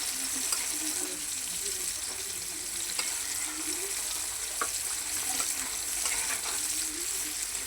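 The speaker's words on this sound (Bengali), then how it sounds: "এদিকে আমি মাছটা বাজিয়ে নিতেছি" Fish fries in a pan with a soft, steady sizzle and crackle, faint and even throughout, with light clinks now and then.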